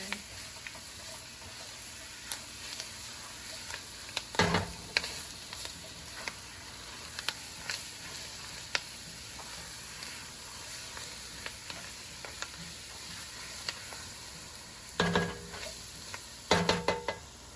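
Roux for crawfish and shrimp étouffée cooking over medium heat in a pan, a soft steady sizzle broken by a few sharp knocks and scrapes of the spoon as it is stirred.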